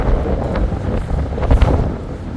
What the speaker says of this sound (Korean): 엄청난 바람이 불고 있습니다